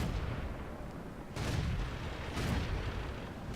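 A tank gun fires in a tank video game, a heavy boom thudding over a dense rumble of engine and battlefield noise, with a second blast following about a second later.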